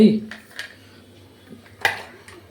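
A knife cuts an onion in a kitchen with a few sparse, sharp knocks and clicks against the board, one louder chop standing out, over quiet room background.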